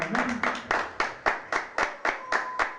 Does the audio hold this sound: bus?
no